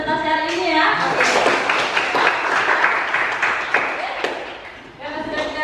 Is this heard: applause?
yes